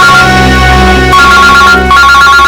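A phone ringtone rings loudly and continuously, a dense, bright, musical electronic tone that holds steady with small shifts and dips for the whole stretch.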